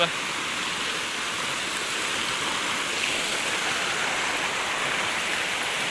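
Water pours hard and steadily down a small village waterfall in rural Konkan, a dense, unbroken roar holding at one level throughout at close range.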